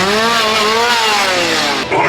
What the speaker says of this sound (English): I already hear chainsaws